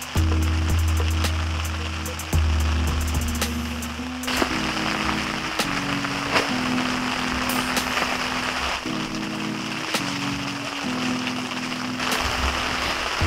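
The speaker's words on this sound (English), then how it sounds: "Pouring down rain. Slightly pouring down rain." Steady, heavy rain pours down in a South Carolina pine forest, a dense hiss broken by irregular louder drips and taps, with a low engine-like hum underneath.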